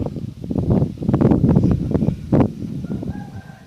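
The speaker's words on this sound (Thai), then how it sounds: "ฟังเสียงนกเสียงไก่" Chickens cluck and squawk close by in a dense, noisy burst, with rooster-like calls mixed in among the flock.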